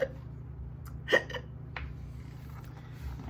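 A woman imitates hiccups while reading a children's story about a hippopotamus, giving one sharp, breathy hiccup followed by a couple of softer ones over a faint background hum.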